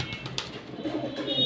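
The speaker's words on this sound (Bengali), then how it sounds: "রেড সেকার খুবই পোষমান একটি কবুতর" A tame pet red checker pigeon gives a soft, low, close cooing murmur lasting about a second, with faint background noise and no speech.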